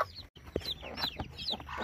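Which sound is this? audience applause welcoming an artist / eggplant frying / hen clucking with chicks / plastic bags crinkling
hen clucking with chicks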